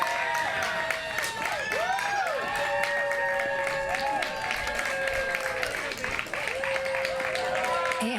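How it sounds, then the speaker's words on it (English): A crowd at a pickleball championship court cheers and applauds for a women's gold medal match, with steady clapping and high whoops and whistles going on throughout. "Andy Jones getting the crowd going wild. They're all cheering for Andy."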